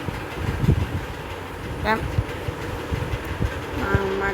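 A train rumbles steadily past at a railway station with broad clattering noise and a brief horn-like tone, while people talk nearby.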